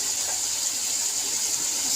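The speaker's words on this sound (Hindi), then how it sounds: "अब मैं डालने लगी हूँ इसके अंदर पानी।" Water pouring steadily into a pan of potato and eggplant sabzi, a continuous bright rushing stream with no pauses, close and fairly loud.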